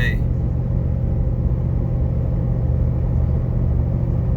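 A lifted 2017 Ford F150 with a 5-liter engine, 6-inch lift and 35-inch Nitto Ridge Grappler tires cruises down the highway, making a constant heavy cabin drone of road and tire rumble.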